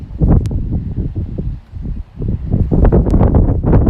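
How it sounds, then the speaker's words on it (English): Gusty wind buffets the microphone in uneven, rumbling bursts, loud and close, with a brief lull midway before picking up again. "It's a little windy today"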